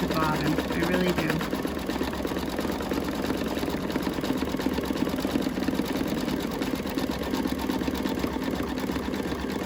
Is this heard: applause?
no